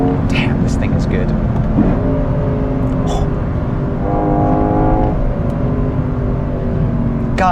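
A 2024 Lexus IS 500's naturally aspirated engine revs steadily from inside the cabin, its harmonic drone climbing and falling through gear changes on a resurfaced winding road, with a voice speaking over it.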